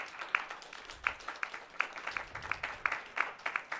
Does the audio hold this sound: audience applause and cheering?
yes